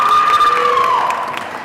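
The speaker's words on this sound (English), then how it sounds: "Good cheering section, yeah." Crowd at a Loyalist College convocation applauding and cheering for a graduate, a steady dense wash of clapping with whistles and cheers, fairly loud and tapering slightly toward the end.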